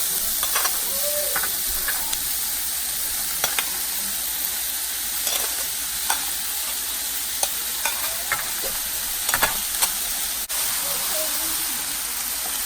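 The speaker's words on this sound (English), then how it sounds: "after adding okra, mix everything." Okra stir-fried in a pan for a Telugu-style bhindi fry gives a constant loud sizzle and hiss, punctuated by occasional sharp ladle taps and scrapes against the pan, close and steady throughout.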